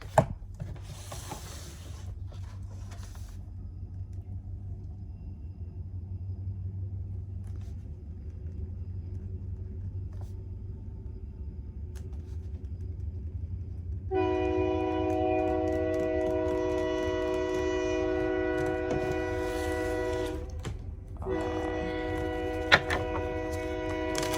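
A train rumbles steadily, then a loud, sustained horn blares for several seconds with a brief pause before sounding again.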